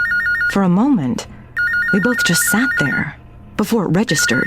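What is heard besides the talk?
telephone ringing sound effect in audiobook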